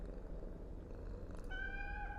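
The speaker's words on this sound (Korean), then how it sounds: "야옹아, 고양이 울음소리가 들려" Cat meowing and purring in the dark stairwell horror game SCP-087, a steady low rumble with a brief tonal call near the end, close and fairly loud, with no talk.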